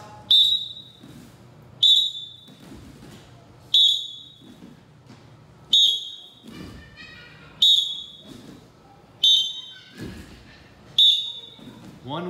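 A wrestling coach blows a whistle at regular intervals during sprawl drills, seven sharp blasts roughly two seconds apart, with thuds and shuffling of wrestlers hitting the mat between them.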